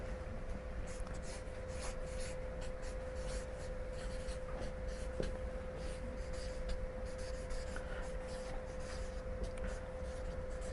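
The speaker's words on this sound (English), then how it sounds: "So I'm just going to write that down." Pen on paper as notes are written by hand: a steady scratching and rubbing, soft and close, running continuously over a constant background hum with no talk.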